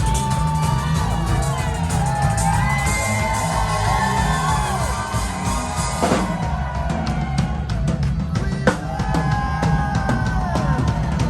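A comedy show crowd cheers and whoops in a packed room, loud shouts and yells rising over a busy hubbub, with sharp bursts of clapping and scattered voices throughout.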